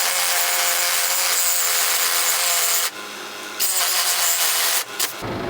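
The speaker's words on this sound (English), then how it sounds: "you want to cut with the Sawzall towards the back of the control arm itself" A reciprocating saw cuts through the metal bushing sleeve on a Nissan 240SX rear lower control arm. The rasping is loud and close, with brief pauses near the three-second and five-second marks before the cutting resumes.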